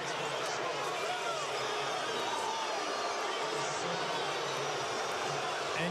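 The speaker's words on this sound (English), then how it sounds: "And you can hear the crowd here at Target Center." Basketball arena crowd at Target Center, a steady dense roar of many voices, fairly distant and unbroken, with play-by-play commentary running over it.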